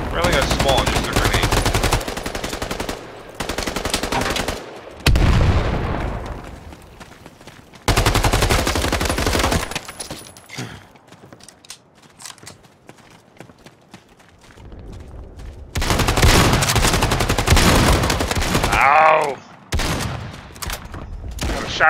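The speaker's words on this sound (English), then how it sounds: "Now I got the trench gun." Trench gun shotgun fire in the World War II shooter Battalion 1944, loud bursts of rapid shots separated by quieter stretches, with voices and other game sounds between the shots.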